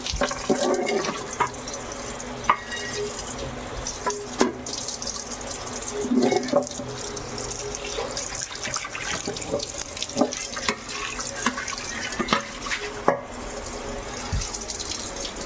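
Running tap water pours steadily over a greasy steel kadai as it is scrubbed clean, giving close splashing and rushing water with small clanks and knocks of the pan, while a voice speaks faintly underneath.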